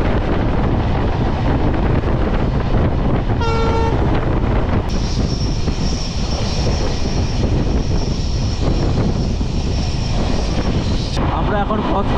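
A Dooars Vistadome tourist express train runs with a steady, loud rumble of wheels and carriage throughout, a brief tonal blast near the start and a high, thin whine through the middle.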